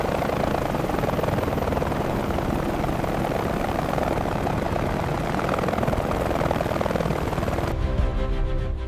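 A single-person flying drone hovers steadily at about 50 feet, giving off a loud, continuous rotor drone and whine with no letup, then the sound cuts off abruptly near the end.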